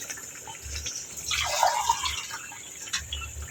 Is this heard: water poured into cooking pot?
yes